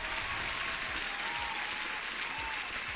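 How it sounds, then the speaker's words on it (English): Steady, even applause from a small gathering at a live day-trading session continues without a break, filling the short stretch at a fairly loud level. "You deserve an extra applause"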